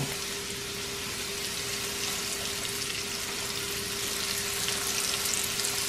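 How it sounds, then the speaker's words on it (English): A full skillet of morel mushrooms fries with a steady, dense sizzle and hiss that holds evenly throughout, along with a faint constant hum. "A good skillet full. Let these fry up nice golden brown."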